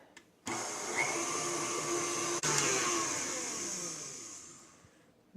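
Electric mixer with a paddle beating chocolate dessert batter hard, a steady loud whirring hum that runs for several seconds, rises slightly, then winds down and stops.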